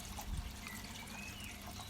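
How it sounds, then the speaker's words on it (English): Water from a DIY pond filter built into a square 50-litre food-safe plastic storage container spills steadily out of a small urn into a garden pond, a soft, faint, continuous trickle with no voices. "I connected the filter to a little urn that spills into the pond"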